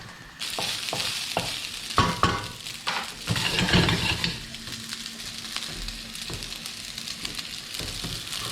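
Dumplings and Japanese rice cooking with onion in a hot pan, a steady close sizzle and frying hiss broken by irregular stirring scrapes and clatters, busiest in the first four seconds, with no talk.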